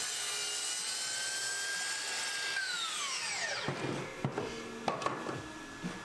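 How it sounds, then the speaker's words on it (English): A miter saw trimming a few millimeters off the ends of wooden side panels for a sanding cabinet: a loud steady motor whine spins down with a falling pitch, followed by a few sharp clunks and knocks nearby. "I just needed to trim a few millimeters off the end at the miter saw"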